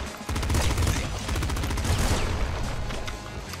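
Rapid bursts of popgun fire from Nuclear Throne come in a fast, steady stream of sharp, loud shots, almost continuous for several seconds.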